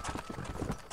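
Horse hooves in the video game Red Dead Redemption, a quick run of close clip-clop steps in a brief burst.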